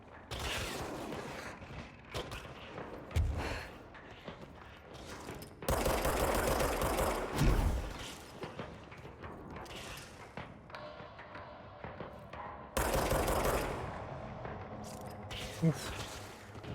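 Gunfire in a video game, bursts of shots and thuds coming in clusters amid loud game sounds, with a voice talking over parts of it.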